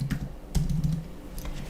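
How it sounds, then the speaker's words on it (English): Fingers tap on a computer keyboard at close range in quick, uneven keystrokes that cluster into short bursts over a soft room hum. "we're going to start typing it out"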